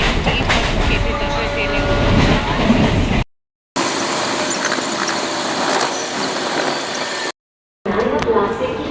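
Inside a local train heading to Howrah, a loud continuous rumble of wheels and carriage noise with rattling, briefly cut off twice.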